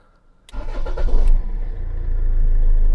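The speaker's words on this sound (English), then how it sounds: "Might need to start the car." Rover 75 car engine cranks and fires after a short quiet pause, then settles into a steady, loud idle close by with a low rumble.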